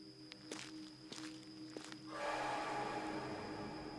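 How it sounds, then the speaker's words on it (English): Footsteps approach along a trail at night with a few soft, spaced crunches. A louder rustling swell follows as they draw near, all faint against quiet outdoor ambience. "Suddenly, we heard footsteps approaching from the trail."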